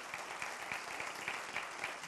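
Congregation applauding in a church service, a faint, even wash of many hands clapping at a distance, steady from start to finish.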